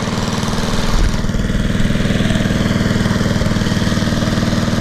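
Close by, an old rusted lawn mower salvaged from beach trash in Emerald Isle, NC idles loudly with a steady, rapid chugging rhythm, holding an even beat without talk.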